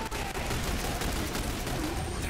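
Rapid turret gunfire in the Xbox 360 game The Bureau: XCOM Declassified, a loud continuous burst of shots hammering close with no pauses.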